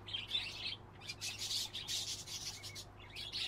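Lovebird chirping inside the Exotica Petshop Simulator video game, a steady run of bright, scratchy tweets repeated in short bursts over a low constant hum, fairly close and moderately loud.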